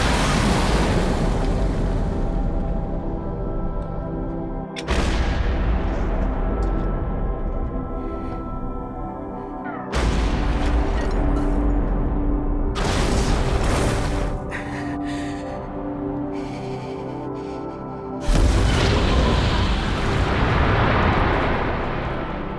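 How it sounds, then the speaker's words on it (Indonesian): A battery of artillery cannons firing projectiles in combat against the Taliban, heavy booms recurring roughly every five seconds, each with a long rumbling decay, loud and close with no talk. "rangkaian meriam artileri ini melesakkan proyektil mereka"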